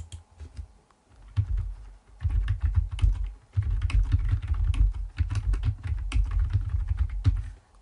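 Fingers typing a title on a computer keyboard, a close, brisk run of uneven key clicks and taps continuing for several seconds with short pauses, no voices.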